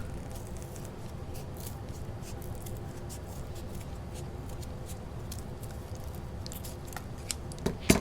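Steady crisp snipping of scissors cutting through material, close and continuous, with a soft rustle underneath and a slightly louder clack near the end.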